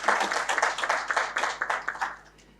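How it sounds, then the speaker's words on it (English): Enthusiastic hand clapping from an audience at an opening plenary session of a transport summit in India, a dense burst of applause that fades out toward the end. "So let's give a big round of applause to them."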